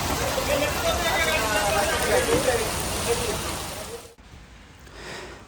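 Heavy monsoon rain falls during road travel near Karjat, a dense, steady hiss that stops abruptly after about four seconds and is followed by a quieter stretch.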